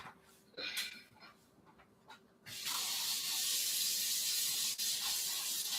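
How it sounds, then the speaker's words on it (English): Tap water sprays into a kitchen sink to rinse a dish used for garlic butter salmon bites. It starts abruptly after a few quiet knocks and then streams as a loud, steady hiss close by. "put this in the sink because it needs to be rinsed off"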